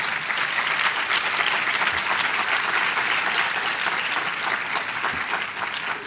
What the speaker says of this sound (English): she deserves a very, very loud round of applause